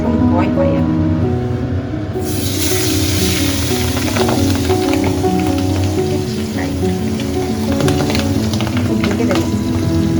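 Fish frying in hot oil in a home kitchen pan, a steady loud sizzle and crackle with scattered spattering pops that jumps up after a quieter start and continues throughout, with talk and low household noise underneath.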